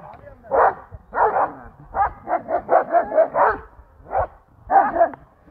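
Several excited flock guard dogs barking outdoors in the mountains at a drone, a close, rapid series of about a dozen sharp barks in uneven bursts.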